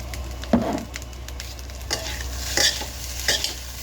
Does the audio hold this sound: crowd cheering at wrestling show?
no